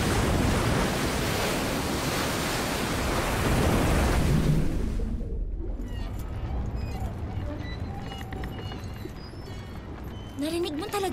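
Strong ocean waves crash in an animated cartoon scene of a ship on rough water, a loud dense roar that lasts about five seconds and then drops to quieter wind and water with a short squeal at the end.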